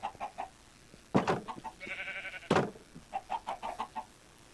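Chickens cluck in a Minecraft game, short bursts of clucks coming in loose rhythmic clusters, with a couple of sharper louder squawks and a brief steady tone in between.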